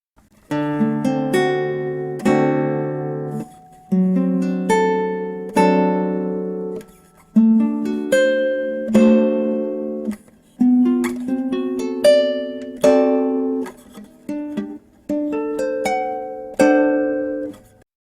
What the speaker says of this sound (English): Arpeggiate the chord and then strum the chord, and so on.